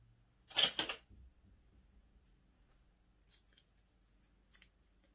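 Scissors snipping through paper while making a paper money tree: one close, crisp cluster of cuts at the start, then two faint, brief snips, with quiet room tone in between.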